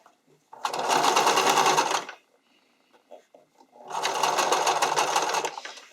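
A sewing machine stitches elastic onto a bikini top in two steady runs of rapid whirring needle strokes, each about one and a half seconds long, separated by a brief pause with soft handling noises.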